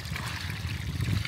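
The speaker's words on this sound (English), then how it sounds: "we also have this beautiful waterfall over here" Water from a waterfall rushes and trickles steadily outdoors, a continuous close-up flow with low churning and a soft hiss.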